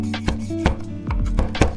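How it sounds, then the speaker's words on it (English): Knife mincing beef liver on a cutting board, a quick series of sharp, close chopping knocks in an uneven rhythm. "Mince the liver using the knife."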